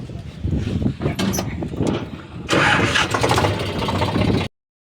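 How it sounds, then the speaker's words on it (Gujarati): A tractor stuck in the ground cranks and starts, its engine catching and running loudly and close for several seconds before cutting off abruptly. "ટ્રેક્ટર ભાઈ ગુતાઈ ગયું છે ભાઈ"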